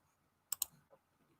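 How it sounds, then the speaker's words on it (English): Two quick, crisp clicks of typing on a computer keyboard, close and isolated in a quiet room, followed by a softer keystroke. "Keyboard. Yes, keyboard."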